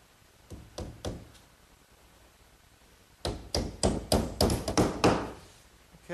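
Small 5-penny box nails are hammered into the back panel of a bookcase cabinet: three sharp strikes, a pause, then a quicker run of about eight close, loud blows.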